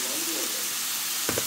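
Beef sautéing with salt and pepper in a pan for menudo, a constant broad sizzle filling the clip, with a brief stirring clatter near the end.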